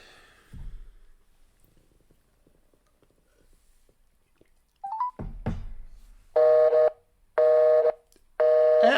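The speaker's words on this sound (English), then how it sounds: "Dial tone? They got the phone off the hook? Busy?" A landline telephone produces a few faint clicks and a short tone sweep, then three evenly spaced buzzing busy-signal bursts, loud and regular, with no voices.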